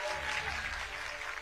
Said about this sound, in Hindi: तालियां रुकनी नहीं चाहिए, जोरदार तालियों से स्वागत करिए आप।